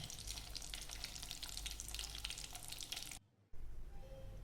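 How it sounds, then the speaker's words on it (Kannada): Steady, loud sizzling and crackling of hot ghee in a pan as water is added, continuous for about three seconds before cutting out briefly, then resuming more quietly. "ಆ ಥರ ಈ ತುಪ್ಪದಲ್ಲೂ ನೀರು ಹಾಕಿದಾಗ ಅದೇ ಥರ ಸೌಂಡ್ ಬರುತ್ತೆ"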